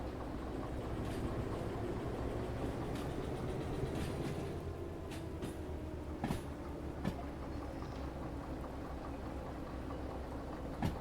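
A train runs along the track in the Derail Valley railway game, a steady rumble and rolling clatter with scattered sharp clicks and knocks over about eleven seconds, and no one speaking.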